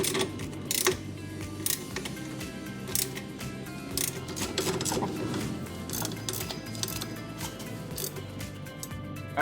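Ratchet clicking as suspension bolts on a 2018 Subaru Outback with a 2-inch REIKA lift kit are torqued to 95 foot-pounds, irregular close mechanical clicks and ticks scattered through the clip amid shop noise.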